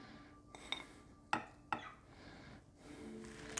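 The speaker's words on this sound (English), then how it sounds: "I'm using a cheese slicing tool here" A cheese slicing tool cuts through a soft no-bake chocolate ripple cake of cream and biscuits: a few quiet, sharp clicks and scrapes against a plate, spaced apart, with faint soft cutting noise between.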